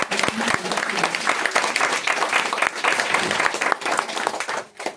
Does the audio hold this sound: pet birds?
no